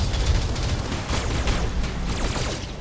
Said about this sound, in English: so ammo explosion, pilot injury